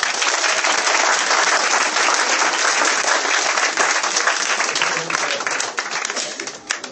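A church congregation bursts into sustained, loud applause and cheering in praise of Jesus, a dense steady wash of clapping that tapers slightly near the end.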